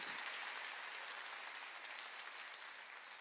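Congregation applauding during a Korean church Sunday worship service, a steady wash of many hands clapping at once, sustained and fairly even throughout with no voices over it.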